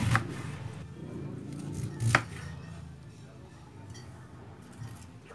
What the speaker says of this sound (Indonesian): Lalu potong-potong juga kubisnya atau kolnya sesuai selera saja.